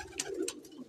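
Pigeons coo softly on a rooftop loft, a brief low murmuring call, faint and close, with no talk over it.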